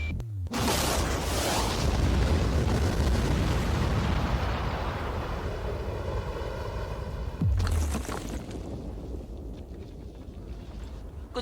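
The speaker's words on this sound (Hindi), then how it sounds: "ये एक असली धमाका है" A huge explosion booms and rumbles, the roar sustained for several seconds, then a second heavy blast follows before the noise tapers into a lingering rumble.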